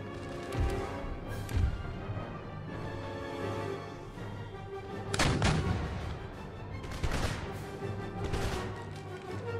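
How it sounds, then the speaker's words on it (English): Artillery fire in Empire: Total War, with repeated heavy booms and crackling volleys over a rumbling battlefield din. Louder bursts come near the start, around the middle and toward the end, with no voices. "Let's fire just out front."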